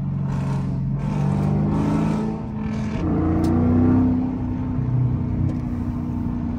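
A Dodge Scat Pack's engine revs up and settles in a deep, loud rumble from inside the car on a drive, with rising and falling throttle and no talk.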